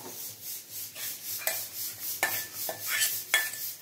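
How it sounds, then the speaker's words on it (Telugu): Rice being mixed by hand with a mango tempering for pulihora makes soft, repeated rubbing and scraping strokes in a steady rhythm, with occasional sharper clicks against the vessel, close and fairly quiet. "ఈ తాలింపుని ఇలా అన్నంలో వేసి ఇలా కలుపుతున్నానండి."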